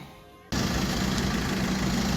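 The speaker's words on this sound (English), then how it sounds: "engine is running up to temperature" A Vauxhall Corsa D 1.3 CDTI diesel engine, just repaired after a leaking core plug, runs up to temperature. After a quiet half-second, a loud, steady, close-up idle clatter starts suddenly and continues evenly.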